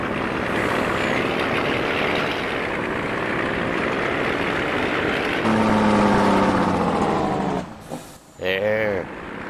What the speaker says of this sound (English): Jake brakes on the truck and farm simulator, man.